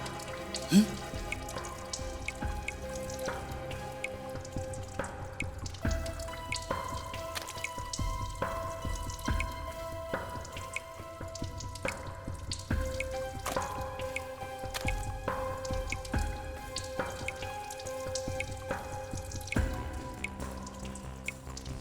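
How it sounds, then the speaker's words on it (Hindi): Water drips steadily indoors in an office, a series of distinct plinking drops at an irregular rhythm over a faint background hum, fairly quiet and close. "पानी कहां से टपक रहा है?"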